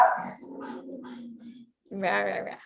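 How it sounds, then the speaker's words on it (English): A puppy growls in a low, drawn-out rumble, then breaks into a short, loud bark close to the mic after a brief pause. "You heard a noise. Yeah, that's my puppy."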